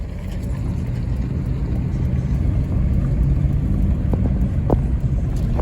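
An old school Chevrolet truck pulls a trailer loaded with dry tree branches uphill. Its engine gives a steady, close, loud low rumble with road noise throughout, and no one talks.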